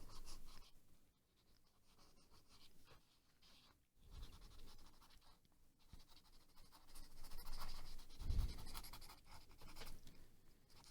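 Pastel pencil sketching a portrait on paper, with soft uneven scratchy strokes that come and go close by, fainter in stretches and busier toward the end, with no talk.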